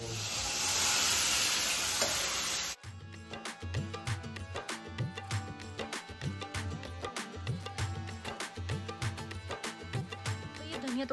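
A brief burst of hissing sizzle as tempering spices hit hot oil, then rhythmic music with a steady beat takes over for the rest.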